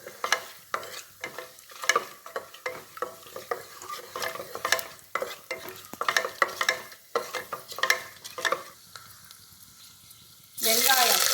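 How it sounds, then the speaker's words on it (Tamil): Cashews sautéing in a pan for ghee rice, with rapid clicking scrapes and taps of a spoon against the pan over a low sizzle, close up, ending in a sudden louder burst of hiss. "அடுத்து முந்திரி, அதையும் அதை வதக்கிக்கணும் தான்."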